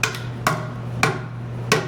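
A hammer strikes a rusted metal chassis brace on a Triumph TR6 four times at a steady pace, each blow a sharp, close clank over a low steady hum.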